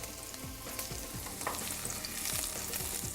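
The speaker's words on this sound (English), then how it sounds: "Add chopped 2 cloves of garlic and 1 bay leaf." Two chopped garlic cloves and a bay leaf fry in hot oil, giving a close, dense sizzle with a few soft stirring scrapes and no talk.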